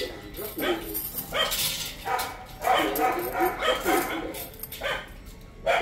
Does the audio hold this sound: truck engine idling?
no